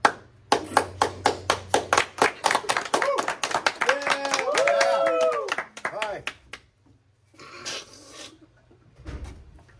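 A single person claps in a quick, even series of sharp hand claps for about two seconds, then talks, with a couple more taps and a muffled knock later.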